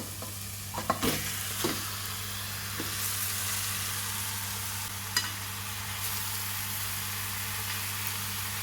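Spiced seer fish pieces, rubbed with salt and chili powder, frying in a pan with softened tomato, giving a steady broad sizzle with a few clinks and stirring knocks early on and a low constant hum beneath.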